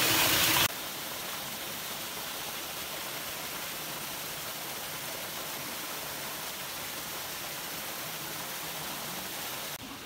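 A forest stream flows near a bridge on the way to Aur village in the Truong Son mountains, giving off a steady, even rush of water that holds unbroken throughout.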